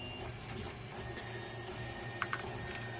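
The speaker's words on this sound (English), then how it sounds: "I have to ignore the 3D printer that's printing away in the background for a different project." A 3D printer works steadily in a quiet workshop, its stepper motors whirring and whining in a repeating pattern at low volume, with a couple of faint clicks near the end.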